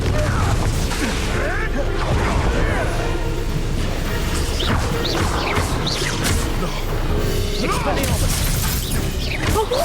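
Confringo, the explosive spell in Hogwarts Legacy, is cast in busy combat with loud crashes, booms and clattering impacts, and voices are heard talking throughout.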